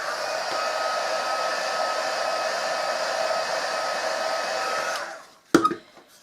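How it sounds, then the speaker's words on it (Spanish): Hot-air hair dryer or heat gun heating EVA foam, a steady close whooshing blow for about five seconds before switching off, followed by a brief handling knock. "con una pistola de calor o con un secador de pelo con aire caliente, le aplicáis aquí en esta parte de aquí."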